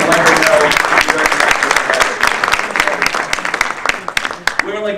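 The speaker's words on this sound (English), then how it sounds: "So I think that deserves a round of applause." Loud, dense applause from a crowd at an evening awards ceremony for the Maryland Women's Hall of Fame, steady through the clip and thinning slightly toward the end, with a voice briefly audible over it.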